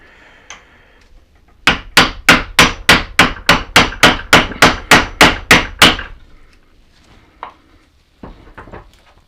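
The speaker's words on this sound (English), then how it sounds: "Just going to use the bolt to drive it down a little bit." A hammer drives a bolt to push a star nut down into a bicycle steerer tube, giving about fourteen sharp, evenly spaced metallic strikes in a steady rhythm, close and loud, followed by a few faint knocks.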